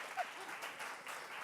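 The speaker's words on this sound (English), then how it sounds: "I think we need an applause for that." A crowd at a beauty line launch event claps steadily, faint and distant, in a short burst of applause.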